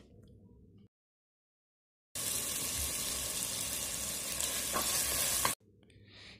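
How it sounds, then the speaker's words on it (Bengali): Cubed chicken and chopped carrot dropped into hot oil for fried rice, a sudden loud steady sizzle lasting a few seconds between quieter stretches, close by with no talk. "তেলটা সামান্য গরম হয়ে এলে এর মধ্যে দিয়ে দিব কিউব করে কেটে রাখা চিকেন ও গাজর কুচি"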